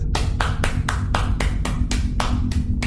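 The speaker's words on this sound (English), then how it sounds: "Round of applause, everyone." A single person claps about ten times in a quick, steady rhythm, each clap sharp and close over a low background hum, with no talking.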